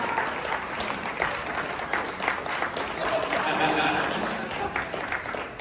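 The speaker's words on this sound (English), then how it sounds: "Let's give him a round of applause, like a real one" Light, scattered clapping from a small crowd, fairly quiet and steady for several seconds, with some voices mixed in beneath it.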